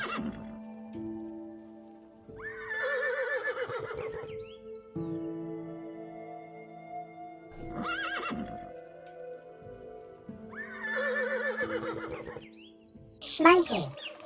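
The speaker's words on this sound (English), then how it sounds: "Horse." Horses give several loud, drawn-out neighs and whinnies, spaced a few seconds apart, over a quiet background with faint hoof clip-clops.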